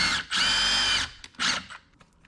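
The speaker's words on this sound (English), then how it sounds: "let's go ahead and try to drill a hole through some wood, see how it works" A Milwaukee M18 impact driver drills a hole through a piece of wood in two loud, close bursts: a long whirring run, a brief pause, then a shorter spin that winds down, with no talking.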